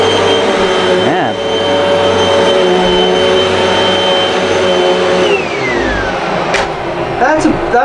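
Hoover WindTunnel Pet Rewind bagless upright vacuum, model UH70210, running loud and close with a steady roaring whine that shifts in pitch midway, while people talk over it.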